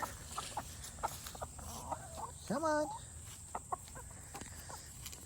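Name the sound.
ISA Brown chickens clucking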